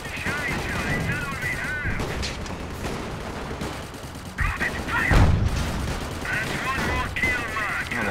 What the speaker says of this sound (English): Oh, they're shooting at my good Panzer female.